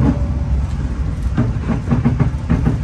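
A local Bandung Raya train hauled by a locomotive passes close by, its wheels beating a rhythmic clickety-clack over rail joints under a steady rumble.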